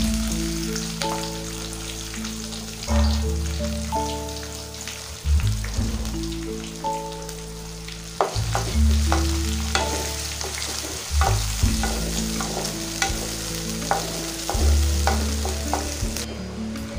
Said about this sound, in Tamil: வெங்காயம் பார்த்தீங்கன்னா நல்லா வதங்கிடுச்சு